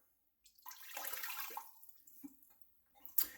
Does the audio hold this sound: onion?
no